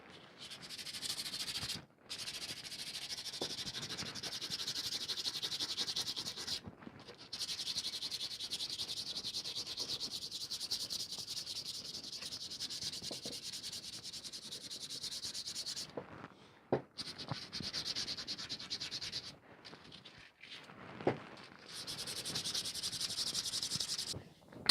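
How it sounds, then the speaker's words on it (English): Sandpaper of 240 grit scrubbing over old, rusty leather working tools, a steady close hissing rasp that runs almost continuously with a few brief pauses. "having used a bit of sandpaper on there, a bit of 240 grit, just to give a go over"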